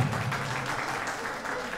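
An audience at a pigeon flying cup prize distribution in Moradabad applauds, a short, fairly soft wash of crowd clapping mixed with a voice.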